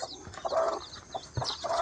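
A hen clucks in short bursts, a few close calls with gaps between them, and faint chirping in the background.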